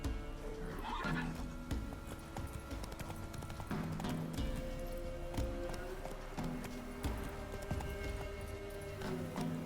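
A horse whinnies and gallops in the video game Witcher 3, with steady clip-clop hoofbeats running throughout and a neigh near the start.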